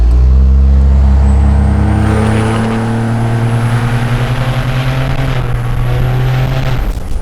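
A Cummins diesel truck revs its exhaust hard, a loud, close, sustained roar with a deep rumbling drone that swells and holds steady for several seconds, with no voices.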